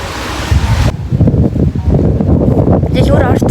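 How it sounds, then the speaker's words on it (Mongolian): Wind blowing outdoors beside a shop, a steady rushing roar with gusty buffeting against the microphone, continuous and fairly loud, while a person talks over it. "Гадаа салхитай байна."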